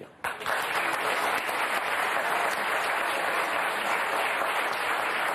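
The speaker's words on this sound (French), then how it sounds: "Je vous demande de l'applaudir." A French television talk-show studio audience applauding guest Dr Sandrine Sebban: loud, continuous, tightly packed clapping that begins almost immediately and holds steady throughout.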